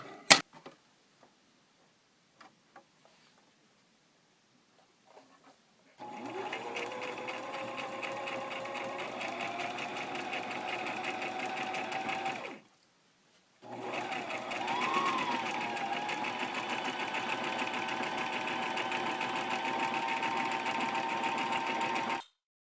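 A sewing machine stitches pieces of a 1930s-style baby bib together in two long, steady runs of rapid ticking, separated by a short pause, after a few quiet clicks of handling.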